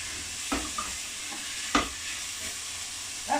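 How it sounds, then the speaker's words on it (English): Green Giant sweet corn sizzles steadily in a hot frying pan while soup and bread are made, with a constant bright hiss broken by a few soft clicks and scrapes of stirring. "That's a nice sizzling noise."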